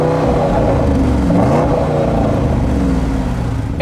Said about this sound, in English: the Sport exhaust sounds really, really good